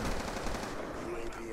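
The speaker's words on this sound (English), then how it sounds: "I guess the MTAR is a pretty good weapon." Sustained automatic fire from an MTAR assault rifle in Black Ops 2, dense and continuous at close range for the whole short burst, with no pause and no voice over it.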